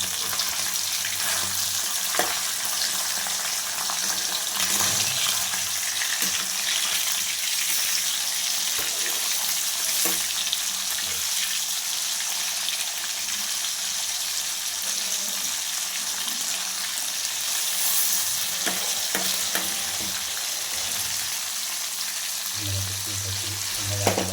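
Kavalai fish sizzles steadily in a frying pan, a continuous broadband hiss of hot oil with scattered crackles and pops, close and fairly loud throughout, with occasional soft stirring or turning noises and no talk.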